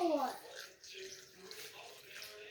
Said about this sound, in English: since these mushrooms are cool, I'm using like cool water, not cold